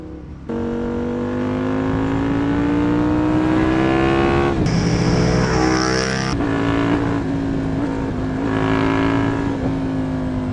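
A loud Aprilia RSV 1000 R Factory sport motorcycle engine revs and holds a high, steady whine, briefly climbing higher, then drops back to a sustained drone.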